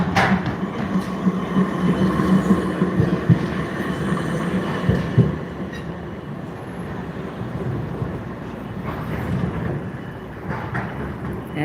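Melbourne trams passing on Glenferrie Road, a loud rolling rumble of wheels on track with rattling and brief squeals, swelling and fading as two trams cross, heard up close from the street.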